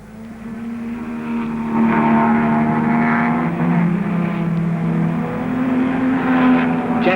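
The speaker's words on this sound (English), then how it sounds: "In all, 8 Jaguars were running, which left John Ailey in a mini minority." Jaguar 3.8 saloons racing in a 1961 event, engines roaring together in a loud, sustained drone that swells and holds steady, close by.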